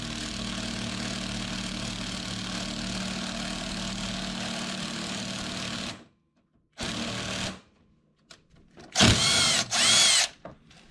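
A power tool with a 1/2 inch socket whirs steadily and loudly while tightening a threaded insert, then cuts out, gives a short second burst, and after a pause whines up again in two sharp, high-pitched runs.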